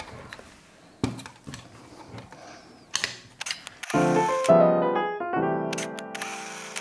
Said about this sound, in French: passer la bobine vide restée dans l'appareil sur l'emplacement du haut pour qu'elle devienne receveuse pour la prochaine session